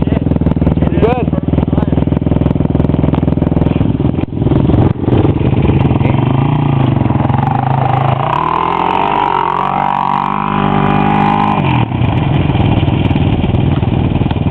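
A Honda 400EX quad engine runs loud and close throughout, revving up and down with rising and falling pitch while an inexperienced rider is coached to give it gas.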